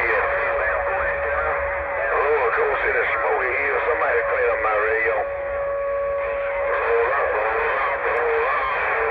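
Crackly, distorted CB radio transmission with a garbled voice coming through steady static for several seconds.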